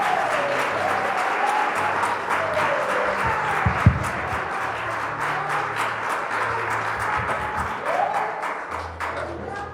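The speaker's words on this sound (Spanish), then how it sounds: "Den un aplauso fuerte a Jesús." A church congregation applauds loudly during a sermon, a thick, continuous wash of many clapping hands with soft low musical tones and an occasional thump underneath.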